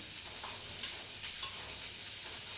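Paneer roasting and being stirred in a pan along with onion and tomato, giving a continuous close sizzle with faint scraping, no voices.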